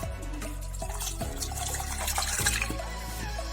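Water pours and splashes into a pot of mashed greens for Tamil keerai kuzhambu, a steady trickling flow with small drips, close by and fairly quiet.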